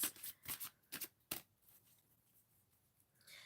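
Tarot cards being shuffled by hand, a series of quick riffling flutters in uneven bursts, close and crisp, fading into quiet handling toward the end with no talking.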